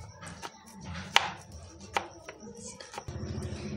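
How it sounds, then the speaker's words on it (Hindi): A knife chops peeled bananas into slices on a cutting board, several distinct close taps at an uneven pace, followed by softer handling noises. "हमने इन सब केलों को पील कर लिया है और अब हम इन्हें स्लाइसेस में काट लेंगे कुछ ऐसे।"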